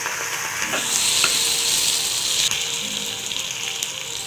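Chopped onions and tomatoes sautéing in a hot pan for a turkey berry tamarind curry, a steady loud sizzle with occasional stirring scrapes, close and with no talking.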